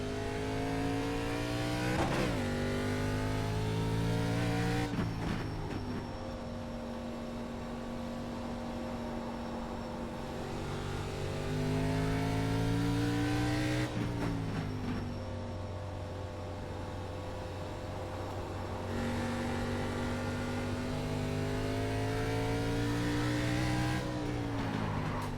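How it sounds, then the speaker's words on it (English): An ARCA Menards race car in iRacing roars through repeated shifts as it accelerates, its engine note climbing and dropping in long cycles, loud and continuous with no talk. "Take care, there's a car approaching."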